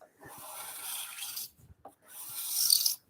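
A cabinet scraper is drawn across wood to lift a shaving in two short, close rasping strokes separated by a pause with faint handling knocks. No speech over the strokes.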